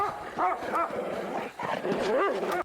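Dog barking in a film scene, a few separate yelping barks spaced across a short stretch, moderately close with an indoor, Foley-like quality over low background noise.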